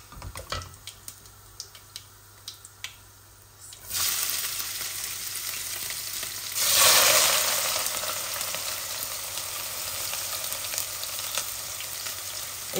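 Oil frying in a pan, faint ticking at first, then a sudden steady sizzle that swells for a moment as something hits the hot oil and settles into a continuous close crackle.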